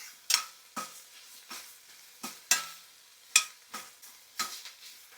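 Coriander leaves fry in a pan for green chutney, soft sizzling under a few distinct metallic scrapes and stirs of a spatula against the pan, spaced unevenly and heard close.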